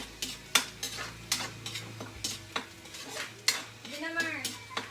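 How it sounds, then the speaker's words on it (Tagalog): Onion and garlic frying in a pan for homemade chicken sisig, a soft sizzle beneath repeated utensil scrapes and clinks against the pan, close and intermittent. "lutuin muna natin yung sibuyas at saka bawang"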